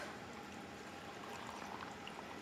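Water being poured into a jar of pickles, a steady gurgling trickle that holds level for a couple of seconds, close and moderately quiet, with no talking.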